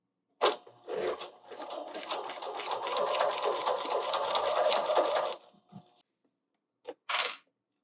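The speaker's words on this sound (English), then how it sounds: "We're going to stitch a couple and then backstitch." Domestic sewing machine stitching quilt binding about a quarter inch from a fold, running in one steady close-up whirring burst of roughly five seconds, preceded by a brief stop-start and followed by silence and a short clatter.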